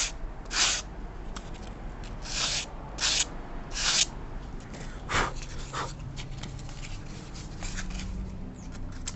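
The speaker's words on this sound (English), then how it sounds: "All you need is just literally a couple of strokes of sandpaper" Several short strokes of sandpaper rub a model aircraft canopy on a Mini Delta build, in brief broadband bursts, near and quiet, against a low background hum.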